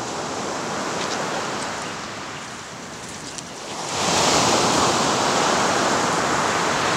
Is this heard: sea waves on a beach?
yes